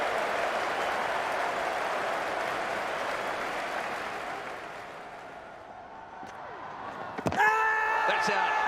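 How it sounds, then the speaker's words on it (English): A large cricket crowd at Lord's during the 2005 Ashes Test roars in a sustained broad cheer that swells and slowly eases, followed near the end by a sharp knock and a brief tonal sound over the continuing crowd. "Listen to the cheer."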